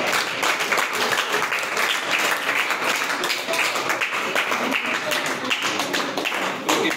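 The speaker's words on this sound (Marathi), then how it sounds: "टाळ्या वाजून स्वागत करा." Audience clapping at a prize distribution ceremony for kabaddi winners, a sustained burst of dense applause with scattered sharper claps, fairly close and continuous throughout.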